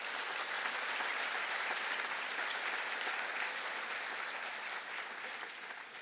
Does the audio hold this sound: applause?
yes